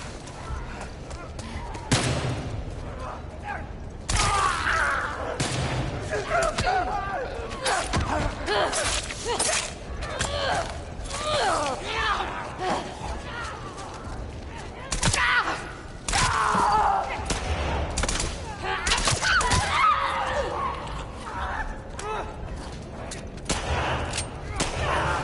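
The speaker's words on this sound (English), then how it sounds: "Oh, I forgot I got a machine gun." Machine gun fire in the video game The Last of Us Part II, bursts of rapid shots with thuds and creaks that recur over a long stretch, mixed with speech.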